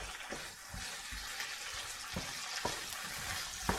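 Food crisping in coconut oil in a pan, a soft steady sizzle with occasional pops and stirring scrapes, quiet and close with no voices.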